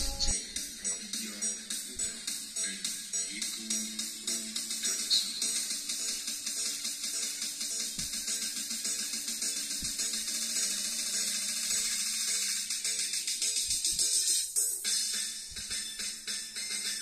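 Hissy, high-pitched music plays continuously through a small speaker on the treble output of a passive crossover, thin and trebly with little low end and a steady pulsing beat.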